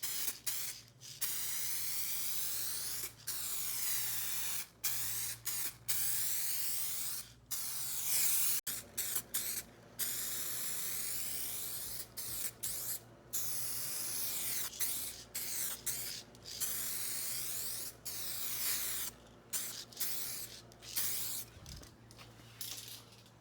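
Aerosol can spraying paint onto car headlights during a restoration, a run of close, loud hissing bursts of varied length separated by short gaps, with occasional faint clicks between sprays.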